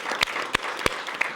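Studio audience applause for the director Raphaël on a French talk show, a thin, steady patter of clapping broken by four sharp, louder hand claps spaced evenly about a third of a second apart.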